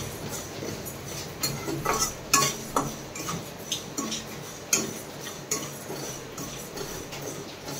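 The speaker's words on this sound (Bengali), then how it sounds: "তো আমি এখানে ডালটা দিয়ে দিচ্ছি, ডালটাকে কিন্তু গোল্ডেন ব্রাউন করে ভাজতে দিতে হবে।" Dry dal is roasted in a pan without oil, a faint scratch of lentils under the spatula with irregular clicks and clinks as the pan is stirred, with no voice.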